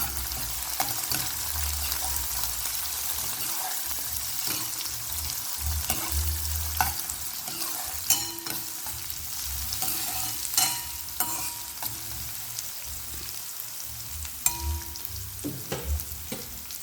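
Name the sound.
stirring onions and spices frying in a pan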